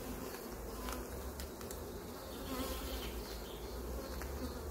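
Honeybees swarm a frame of an open beehive during a colony inspection, filling the air with a steady, dense, close buzz that holds evenly throughout, with no talking.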